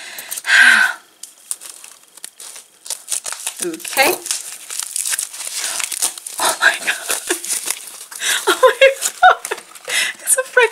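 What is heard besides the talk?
tearing and crinkling wrapping paper off a parcel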